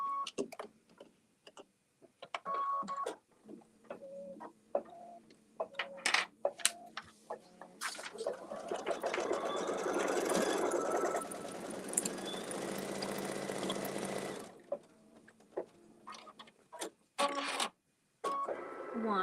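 An embroidery sewing machine runs in a sustained stretch of rapid mechanical stitching for applique tack-down and decorative stitches, bracketed by scattered clicks and handling noises before and after.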